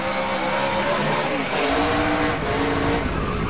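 Onboard sound of a NASCAR Camping World Truck Series race car at Chicago, the driver modulating the gas pedal to keep the truck off the outside wall; a loud, continuous engine roar with rapidly shifting pitch, no talk.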